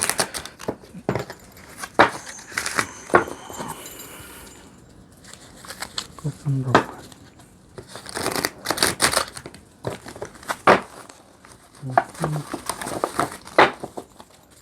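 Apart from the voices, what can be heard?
shuffling tarot cards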